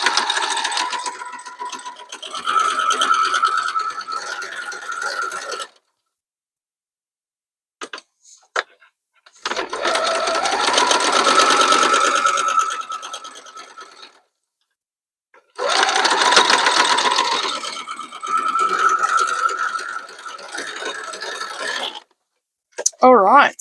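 A sewing machine chain-pieces quilt block pieces in three long bursts of rapid, steady mechanical stitching, close and loud, separated by brief pauses with small clicks and handling noises.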